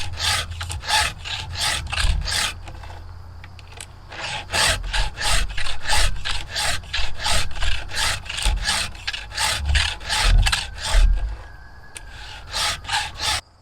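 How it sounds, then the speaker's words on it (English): A file is drawn across the teeth of a chainsaw chain in quick, even rasping strokes, close and crisp. Brief pauses fall between short runs of strokes, and no one speaks. "I just finished up sharpening my chainsaw"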